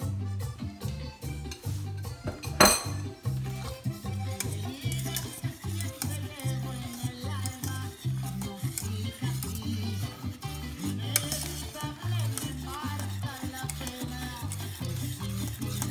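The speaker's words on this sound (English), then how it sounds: "But she's still mixing it." A milk and cornstarch mixture is stirred in a bowl, a steady rhythmic scraping and swishing that repeats close by for the whole stretch, with one sharper clink early on.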